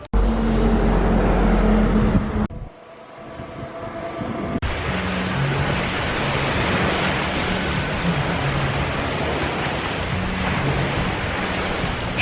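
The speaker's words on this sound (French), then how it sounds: "Je pourrais rester des heures comme ça avec les vagues" Ocean waves roll onto a shore near Kampot in Cambodia as a continuous broadband wash. The roar is loud and close, drops briefly into a quieter stretch, then surges back steadily with no voices.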